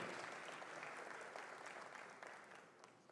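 Audience in a city council chamber applauds at an honors ceremony, a dense, even wash of clapping that holds steady and slowly tapers over a few seconds, fairly distant and soft.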